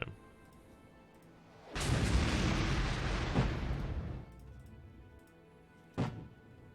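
Incoming fire in the Armoured Brigade war game: a loud, heavy blast that rolls on for a couple of seconds, then a second short, sharp impact a moment later, with no talking.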